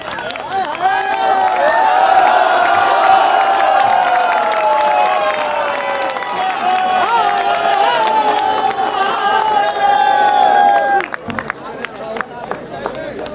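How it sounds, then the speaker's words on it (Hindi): Audience at a Hindi comedy poetry gathering (hasya kavi sammelan) applauding loudly and steadily with cheering voices mixed in, then thinning out abruptly near the end. "एक बार दमदार के लिए तालियां और बजा देते चंद्रशेखर मिश्र जी के लिए"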